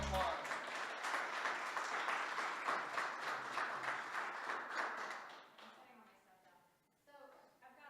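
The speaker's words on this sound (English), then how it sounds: "For a big round of applause." An audience at a winter market talk claps in a sustained, dense round of applause that fades out near the end, with a faint voice underneath.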